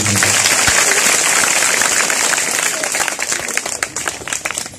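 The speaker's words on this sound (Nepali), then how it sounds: "संजीताको लागि जोरदार ताली" Loud applause from students in a school classroom during a motivational class, dense clapping at first that thins into scattered, uneven claps toward the end.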